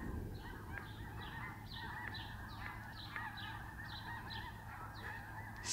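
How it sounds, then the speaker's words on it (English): A flock of geese flying in honks repeatedly in a steady chorus of overlapping calls, some near and some farther off, over a constant low outdoor rumble. "Man, them geese are crazy."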